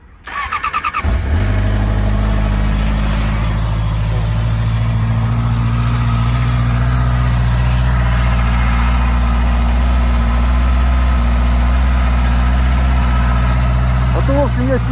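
A Honda CBR 650R motorcycle engine cranks and fires within the first second, then settles into a loud, steady, close-up idle with a smooth low rumble that holds for the rest of the clip.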